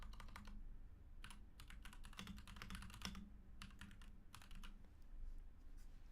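Typing on a computer keyboard, close rapid bursts of key clicks with short pauses between runs, steady throughout and with no talking.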